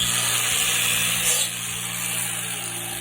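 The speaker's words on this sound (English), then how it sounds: "That's how fast it drills a hole." A plug drill bit mounted on an angle grinder boring a hole into a mushroom log, a steady loud high-pitched whine and grinding hum that dips slightly halfway through.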